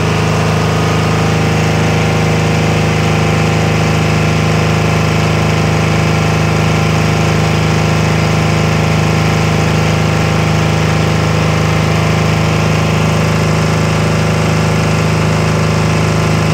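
A Tsuzumi TDG15000S-3 generator set's engine runs during its cooling-down period, giving a loud, constant, close hum with a strong low drone and steady vibration and no change in pitch, with no talking.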